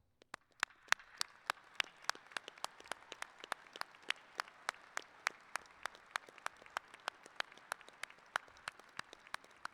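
Sparse applause at a December 2022 college of engineering graduation for honors students, with distinct individual claps spaced in a steady, thin rhythm from a small group in a large hall.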